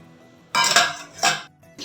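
Ice cubes dropped into a glass for a fruit sharbat make two bright clattering bursts close by, then a short clink at the end.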